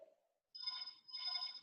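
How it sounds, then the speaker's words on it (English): A telephone rings indoors in a penthouse flat, two clear electronic ringtone bursts a short pause apart, moderately loud, with a brief soft voice sound just before. "Oh, the phone is ringing."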